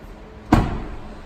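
The extended cab door of a 2019 Ford Ranger is shut with a single solid thud halfway through, close and fairly loud, followed by a short fading resonance in a quiet showroom.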